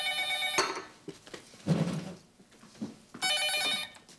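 A telephone rings in two bursts of bright electronic trilling, loud and near, with quiet room noise and muffled sounds in between.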